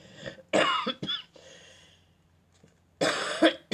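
Several harsh, close coughs from a person with a cold come in a quick cluster, then a short pause before another burst of coughing.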